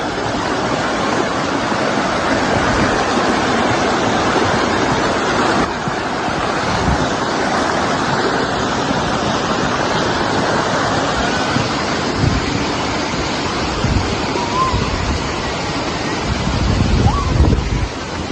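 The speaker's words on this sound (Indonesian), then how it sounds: "Ini jalur sungainya ke bawah." A river runs down its channel at a camping ground among rice fields in Pamijahan, Bogor, making a loud, close, constant rushing roar throughout.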